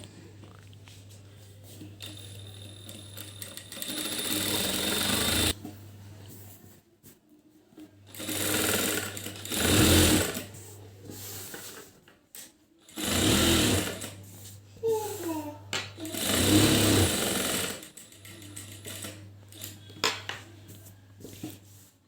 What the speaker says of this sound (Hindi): हमने चारों तरफ सिलाई लगा ली है।